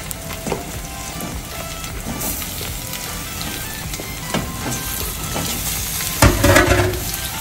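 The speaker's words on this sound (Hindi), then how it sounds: "अब इसमें मैं चिकन डाल रही हूँ।" Chicken fries with onions in a pan for Sindhi biryani, giving a steady sizzle with scattered stirring scrapes and a louder clattering burst near the end.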